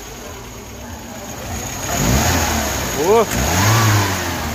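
Moskvich 412 from 1990 with engine revving up from idle at close range, a rising and falling rev burst mid-clip, a voice and short exclamation over the engine noise.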